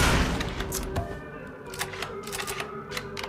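Gunfire in the video game Mafia 3: a rapid run of sharp, clipped shots fires in quick succession over a steady game background, fairly loud and close, with no talk over it.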